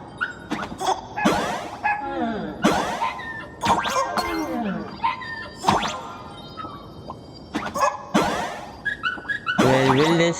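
Dog sounds from Honkai: Star Rail gameplay, a run of yips and whimpering whines rising and falling in pitch, fairly loud and repeated through the stretch, with a brief springy boing-like game effect mixed in.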